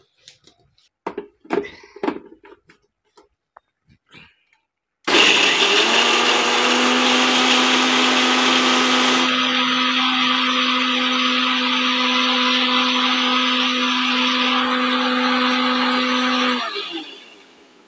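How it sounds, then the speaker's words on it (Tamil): A kitchen mixer grinder whirs loudly and steadily as it grinds soaked cashew nuts into a paste, starting abruptly after a few quiet clicks and handling sounds, then running for about twelve seconds before winding down. "இதை கொஞ்சம் பேஸ்ட்டு அரைச்சி எடுத்துட்டு"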